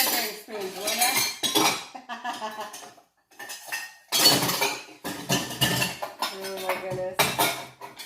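Metal measuring spoons and cutlery clattering and clinking while being washed at a sink, irregular bursts of close, bright jangling with squeaks and brief gaps, plus a short spoken exclamation.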